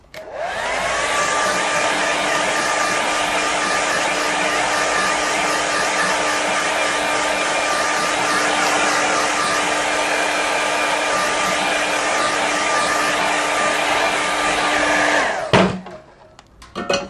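A hair dryer blows steadily and loudly over a wet watercolour landscape painting, a close continuous whine and rush that runs unbroken for about fifteen seconds before cutting off, followed by a few faint handling sounds.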